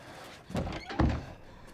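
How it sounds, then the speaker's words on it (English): A door shuts in the survival-horror game Resident Evil Village, giving two heavy, close thunks about half a second apart with no speech over them. "Close the door."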